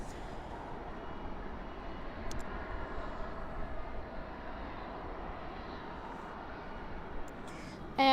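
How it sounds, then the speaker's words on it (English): At night at Dallas/Fort Worth, an American Airlines Airbus A321 comes in to land, heard as a soft, distant jet rumble that hangs low and even, ending in a brief sharper noise. "our next arrival is American Airlines flight 1229 coming in from San Jose del Cabo. A Airbus A321"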